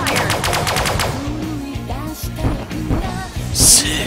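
Ship weapons firing in the space game Sunrider, a rapid burst of gunfire followed by electronic whooshes and blips, ending with a bright high burst.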